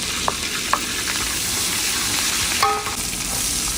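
Ginger and green chillies fry loudly in coconut oil in an uruli pan for ginger chicken, with a dense, close sizzle and a few spoon scrapes and clinks.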